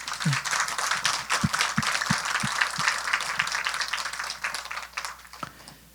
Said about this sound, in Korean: 여기까지 인도하신 주님께 우리 박수 한번 하십시다